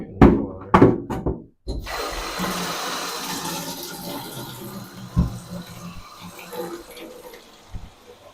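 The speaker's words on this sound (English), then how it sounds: "Over here getting the water." Tap water runs steadily into a container after a few sharp knocks and clunks, a continuous hissing rush that carries on with small bumps and handling noises.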